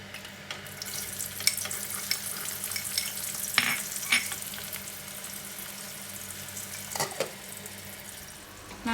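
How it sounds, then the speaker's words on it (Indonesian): Garlic and shallots fry in hot cooking oil with a steady, close sizzle. A few sharper clinks and scrapes of stirring break through now and then. "Panaskan minyak goreng, kita goreng bawang putih dan bawang merah terlebih dahulu"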